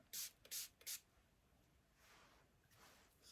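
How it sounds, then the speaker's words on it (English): Three quick bursts of a spray bottle misting type 4 natural hair in close succession, followed by softer, fainter hissy sprays. "I'm trying to spray real good in the middle."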